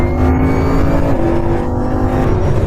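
A Bugatti Bolide with its W16 engine pulls out of a track corner under smoothly rising throttle, a loud dense engine roar heard close from inside the car with a steadily building tone.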